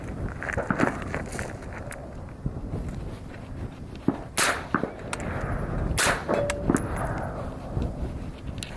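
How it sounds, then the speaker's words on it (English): A suppressed rifle with a Surefire Socom RC2 suppressor fires at a steel target. A couple of muffled shots land a few seconds apart, and a brief metallic ring from the steel follows, over a low background. "if you want to shoot the steel now, you can"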